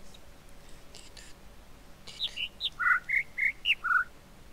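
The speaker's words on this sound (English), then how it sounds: "Unless it's the other bird signal," A bird-chirp signal in the puzzle video game The Witness plays as a short melodic run of about seven clear, high whistled notes at varying pitches, bright and close, following a few faint chirps at the start.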